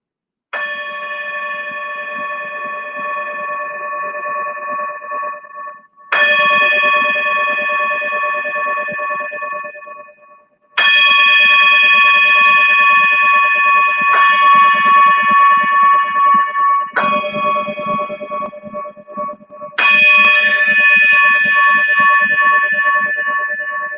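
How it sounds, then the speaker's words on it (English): A singing or meditation-style bell used in a kids' wellness movement session, struck several times with long, pure sustaining tones that ring out and overlap, loud and close with no talk. "the vibration of this magic bell feels really good to my body"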